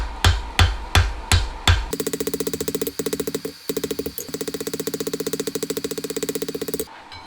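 Five heavy hammer blows ring out slowly on a sucker-rod punch being forged to knock out a dent. Then a fast, steady rattling hammering runs for several seconds with short breaks, loud and close.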